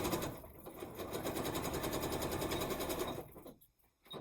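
Sewing machine stitching a quilt row, a steady rapid mechanical chatter held for several seconds before stopping abruptly, then restarting briefly.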